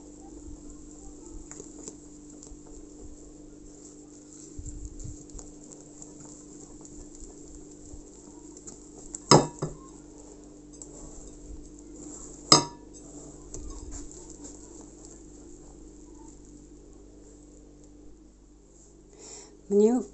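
A spoon stirs cocoa into cake batter for a peach pie in a bowl, giving soft scraping with sparse clinks and two sharp knocks against the bowl's side in a quiet kitchen.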